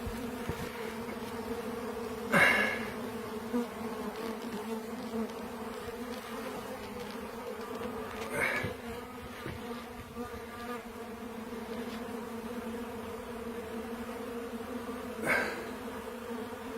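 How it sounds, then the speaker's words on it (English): Steady, droning buzz of many bees up close, continuous throughout, with a few louder buzzing passes as insects fly near. "Let's see all these bees."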